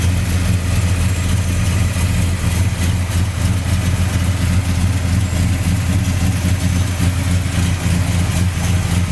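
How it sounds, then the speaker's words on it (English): A 1971 Plymouth Duster's 340 four-barrel V8 with headers and an MSD box idles steadily and loudly up close, a deep, even rumble that holds without a break and has no talking over it. "It is now powered by a great running 340 4-barrel, backed up by a 4-speed manual transmission."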